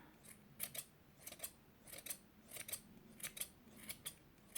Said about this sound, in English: you just kind of snip away.